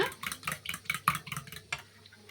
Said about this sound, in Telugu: ఈ ఎగ్స్ అన్నిటిని ఇలా మంచిగా కొట్టుకోవాలి